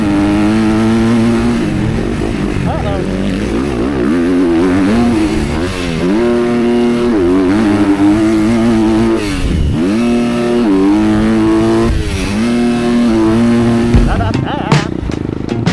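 A 2026 Kawasaki KX250 dirt bike engine runs loud and close the whole time, its pitch rising and falling as the rider revs and shifts between throttle bursts.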